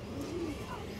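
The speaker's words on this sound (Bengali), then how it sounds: "এটা একবার পুরান ব্লাডার লাইনের সাপচিলা নর কবুতর" A male Sapchila pigeon of an old bloodline coos once, a low soft throaty call close by over a steady background hum.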